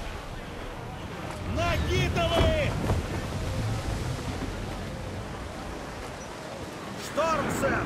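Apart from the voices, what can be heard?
storm wind and waves at sea, video game Assassin's Creed IV Black Flag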